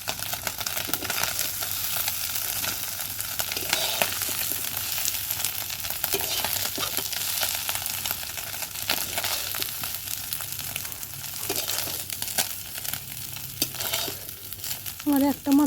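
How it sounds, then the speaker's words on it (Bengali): Small puti fish fry in hot oil in a pan with a dense, steady sizzle and crackle, close and continuous, with occasional stirring and faint scraping near the end. "এটা আমার পুঁটি মাছ ভাজাটা হয়ে গেছে"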